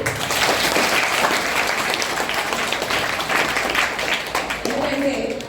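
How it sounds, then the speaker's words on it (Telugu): A school crowd at St. Paul's English Medium School gives sustained, dense applause for record tenth-class exam results, steady and loud from start to end, with a voice breaking in near the close. "క్లాప్స్ అలాగే"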